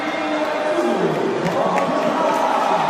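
Indonesian fans roar at a swimming final of the 1500m freestyle at the 2018 Asian Games, a loud, sustained crowd cheer filling a large indoor arena, with voices rising and swelling continuously.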